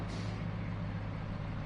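Truck air brakes in the Roadcraft video game hiss steadily under a low engine hum, a continuous close rush of air for under two seconds.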